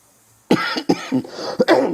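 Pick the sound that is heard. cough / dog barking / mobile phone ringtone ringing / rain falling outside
cough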